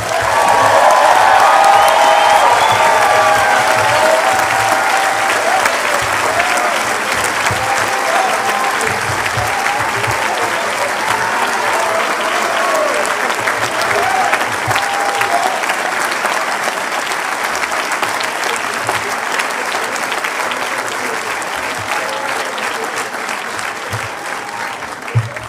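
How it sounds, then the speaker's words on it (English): A large crowd at a 2024 academy commencement ceremony gives sustained, loud applause mixed with scattered cheers and whoops, fading only slightly across nearly half a minute. "Let's have one more round of applause for the alumni class of 2024."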